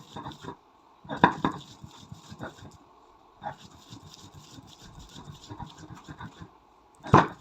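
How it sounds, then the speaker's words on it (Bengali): Shrimp ground on a stone slab with a stone pestle, a run of irregular knocking and rubbing strokes with a few louder sharp impacts, close and fairly quiet. "আমি এগুলো একটু আড়া বাটা করে রাখছি। চিংড়িগুলোকে একটু বেশি করে বাটতেছি।"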